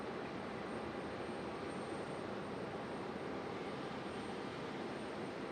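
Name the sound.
Aeromexico Connect Embraer E175 airliner at Raleigh Durham airport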